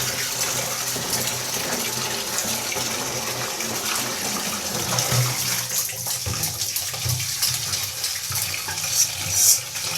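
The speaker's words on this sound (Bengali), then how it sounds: "এখন ধনেপাতা ধুয়ে নিচ্ছে আমার বড় মাসি" Tap water running steadily while coriander leaves are washed at home, a continuous close splashing flow that shifts slightly as the leaves are handled, with no talking.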